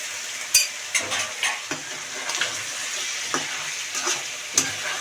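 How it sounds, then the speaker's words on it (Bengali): Chicken frying for biryani as potatoes and eggs go into the pan, with a continuous sizzle broken by several sharp scraping and clattering stirs of a spoon against the pan, close up. "চিকেনটা আমার কষে গেছে, এরই সাথে আমি আলুটা দিয়ে দিচ্ছি, ডিমটাও দিয়ে দিচ্ছি।"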